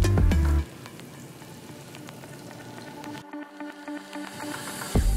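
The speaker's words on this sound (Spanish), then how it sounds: "Y vamos a freír." Breadcrumb-coated falafel balls drop into hot oil, a loud opening burst that settles into quieter bubbling frying with faint clinks before cutting out briefly.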